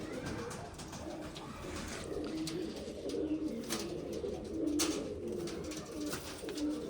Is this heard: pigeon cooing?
yes